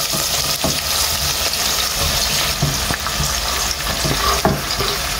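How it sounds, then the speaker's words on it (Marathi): Onions frying loudly in the oil left from frying bombil fish, a dense continuous crackling sizzle close up with a few stirring knocks, no talking. "तर चल पयलीं न्ही हांव ऑनियन घालता तेलान."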